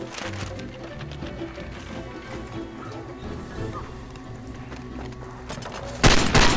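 Gunfire in the video game Far Cry 2, with dense game noise and scattered shots under a busy mix, ending in a louder burst of fire.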